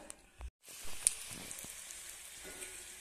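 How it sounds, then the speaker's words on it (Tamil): Poori frying in hot oil: a soft, steady hiss of sizzling with faint crackles, broken by a brief moment of silence near the start, quiet and close. "நம்ம பூரி பொரியும் போது அப்படி நல்லா திருப்பி விடணும்"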